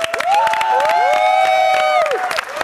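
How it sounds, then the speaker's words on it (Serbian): A television studio audience cheering and whooping for the European champions, loud and close, with shrill sustained shouts and yells over a bed of clapping, continuous throughout. "molim vas veliki aplauz za šampione Evrope."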